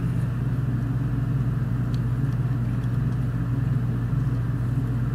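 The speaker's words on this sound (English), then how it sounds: "Sorry for the noise, but this is my fume extractor." A fume extractor fan runs during soldering of an LED cube, a steady low hum and rumble that stays constant and close throughout.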